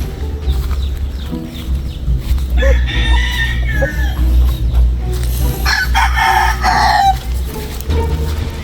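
Chickens crow and cluck close by, loud and repeated, with a burst of rooster crowing toward the end over a busy outdoor yard background.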